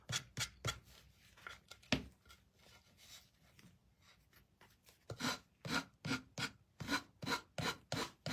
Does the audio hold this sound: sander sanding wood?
yes